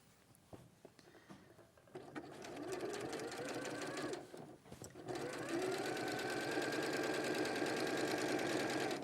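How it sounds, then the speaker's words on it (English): A sewing machine stitches close along a garment facing through the seam allowance, its steady rapid whir starting after a short pause and running loud and continuous with a brief break midway. "I'm going to sew really close on the facing through the seam allowance underneath."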